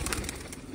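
Baby pigeons cooing and fluttering close by, a soft steady murmur of birds with no one speaking.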